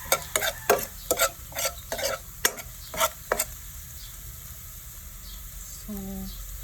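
Garlic frying in a pan, with a run of sharp spatula scrapes and clinks over a low sizzle during the first half, then a quieter sizzle alone.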